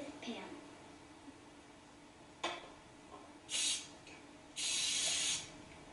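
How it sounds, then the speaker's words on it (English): Two short hissing bursts of cooking spray into a pan, one brief and one longer, against quiet background clatter. "you're going to spray each pan with Pam"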